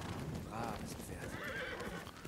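A horse neighs with a quavering whinny in Ghost of Tsushima, over a steady background of game music and ambient noise, with footsteps clopping underneath.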